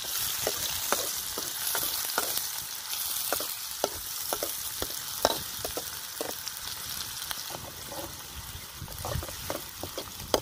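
Onion frying with cumin in a pan for a raw mango shak, a continuous crackling sizzle with frequent sharp pops and occasional stirring, fairly quiet and without talk.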